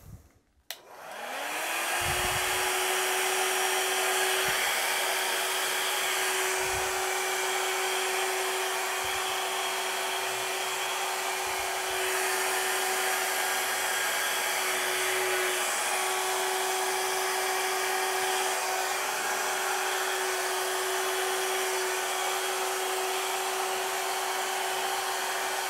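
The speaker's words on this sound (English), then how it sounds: "we can actually use my hairdryer to spread it out" A hair dryer switches on and blows steadily for over twenty seconds, spreading thin paint during a Dutch pour, its loud whooshing airflow and motor hum close and continuous, with small bumps and taps beneath.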